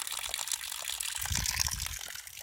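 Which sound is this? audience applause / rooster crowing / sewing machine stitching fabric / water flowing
water flowing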